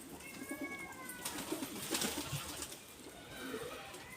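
Pigeons coo in a rooftop loft setting, soft repeated calls close by with some rustling and faint wing movement, steady background hiss throughout.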